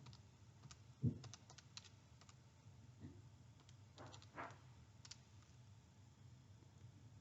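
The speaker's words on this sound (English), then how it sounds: "I just type that straight in." Numbers tapped into a calculator, a handful of quiet, sparse key clicks over a faint background hum.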